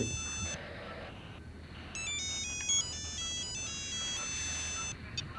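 A melodic electronic phone ringtone plays a repeating tune of bright tones over a low background hum, fairly close.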